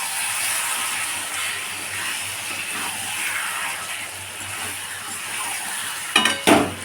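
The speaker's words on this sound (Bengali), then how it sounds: "মটনটা দিয়ে দিলাম, অল্প একটু চিনি দিয়ে দিলাম। এরপর এটাকে ভালো করে কষাতে হবে।" Mutton with a little sugar stir-fried in a pan gives a steady, close sizzling hiss that runs unbroken, then a brief clatter of stirring near the end.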